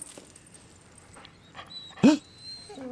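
A dog in the 2011 film Red Dog, poisoned with strychnine, gives a short whimper amid a quiet scene, a single brief cry rising then fading near the middle.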